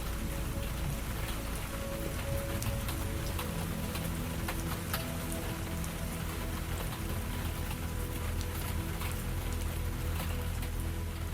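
Steady rain falls continuously as a dense, even hiss of drops, with faint scattered ticks on surfaces and no let-up. The downpour is moderately loud and close, with no voices.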